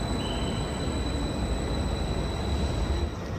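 A double-decker train in Zurich passing close by, a dense, continuous rumble and rush of wheels and carriages, loud and steady throughout, with a thin high whine on top and no voices.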